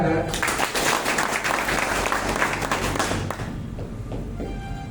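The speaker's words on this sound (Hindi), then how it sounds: "हम तमाम लोग अपने अपने गुरुदेव को याद करते हुए उनके स्वागत में एक बार जोरदार ताली बजाएं" A crowd gives loud, dense applause to welcome their guru, many hands clapping together close by before the sound thins slightly toward the end.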